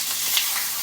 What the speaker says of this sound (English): we're going to have a bunch of sizzling going on